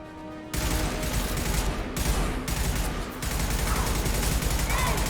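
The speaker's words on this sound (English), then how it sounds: "Firing concussive shots!" Concussive shots fired in the game Mass Effect 2: loud, dense bursts of weapon fire in two or three sustained volleys separated by brief drops, with a quieter start.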